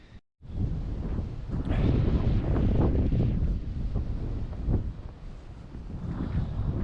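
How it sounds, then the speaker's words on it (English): Strong wind buffets a rooftop and the microphone in loud, sustained gusts, with a roaring rumble that rises and falls without pause. "that wind is only getting stronger"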